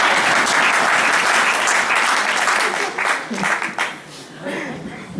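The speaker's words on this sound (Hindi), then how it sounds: "संगीताओं के नाम पे एक बार जोरदार ताली बजाएं।" An audience at an evening Hindi poetry gathering in Houston bursts into loud sustained applause, dense clapping that thins into scattered claps and fades near the end, with some voices mixed in.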